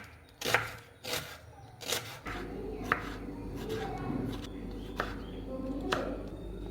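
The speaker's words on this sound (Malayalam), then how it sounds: "അപ്പം നമുക്ക് സവോള അരിഞ്ഞിട്ടാലോ." Onions are chopped with a knife on a board in a home kitchen, giving a run of soft irregular thuds and taps, some sharper than others, over a low rumbling background.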